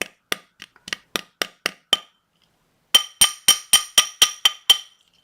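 A small hammer taps wire wraps on a cabochon ring with sharp metallic clinks, first a scattered run of lighter taps, then after a short pause a steadier series of about ten brighter, ringing strikes, close and alone.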